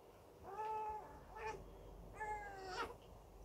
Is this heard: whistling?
no